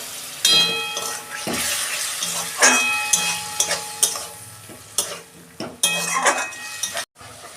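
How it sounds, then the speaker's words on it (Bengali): A spice paste with a little water fries in a pan while a spoon stirs it hard, bringing repeated clanks and scrapes against the metal over a bubbling sizzle, close and irregular. "ভালো করে মশলাটা করতে নেবো যতক্ষণ না তেল ছাড়ে"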